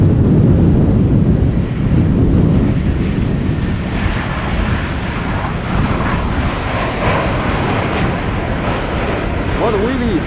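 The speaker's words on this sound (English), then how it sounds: "This is Vueling flight 8309 A320 arriving from Barcelona." A Vueling Airbus A320 arrives at Amsterdam Schiphol Airport in breezy post-storm conditions, a loud continuous jet rumble blended with heavy buffeting wind noise on the microphone throughout.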